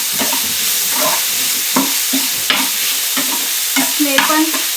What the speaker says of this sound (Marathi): आता ती भाजी छान अशी परतली गेली